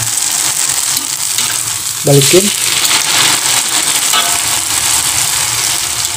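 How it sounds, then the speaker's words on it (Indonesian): Rice vermicelli fries in hot oil with a loud, continuous hissing sizzle, and a brief voice cuts in partway through. "Kita akan goreng dulu bihunnya."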